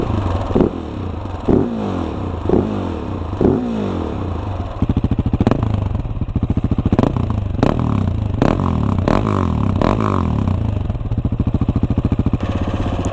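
A Husqvarna 701 supermoto motorcycle being started: several short cranking bursts come first, then the single-cylinder engine catches and idles close by with uneven pulsing and a few sharp blips.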